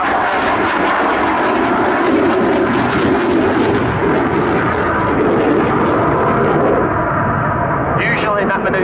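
An RAF Eurofighter Typhoon jet performs an aerobatic display at Cosford Airshow, its engine roaring loud and continuous overhead while a commentator talks over it.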